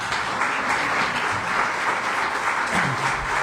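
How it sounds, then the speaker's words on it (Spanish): A church congregation applauds for teachers, with sustained, dense clapping from a crowd at full strength that fills the room evenly from start to finish. "Y damos un aplauso por los maestros."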